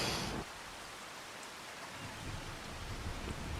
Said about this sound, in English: Oh dear, it's raining.